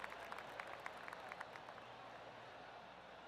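In the PGA Tour 2K21 golf game, a crowd gives polite, scattered applause. The claps are faint and distant and thin out over a few seconds.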